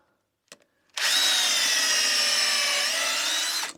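A small wood drill bit bores into a wooden beam. A short tap comes first, then a loud, close, steady drilling whine runs unbroken for nearly three seconds.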